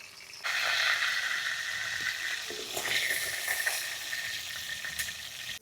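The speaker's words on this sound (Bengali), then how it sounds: "ফোড়নে দেবো জিরে শুকনো লঙ্কা" Cumin seeds and dry red chillies hit hot oil for a tempering in a sea fish and potato curry, setting off a sudden, loud, close sizzle that holds steady and crackles for several seconds.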